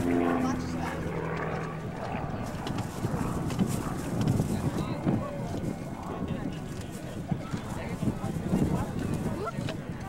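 Canadian Forces Snowbirds jets performing aerobatic manoeuvres at the Kern County airshow, a continuous distant roaring engine drone that swells and fades, with crowd and wind noise underneath.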